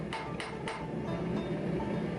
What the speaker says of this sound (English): So you want to hammer it and then flatten it, and then hammer the edge, then flatten it